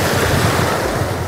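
Sea waves at Agatti island wash in with a loud, steady rush of surf and wind noise, continuous and close, with no voices.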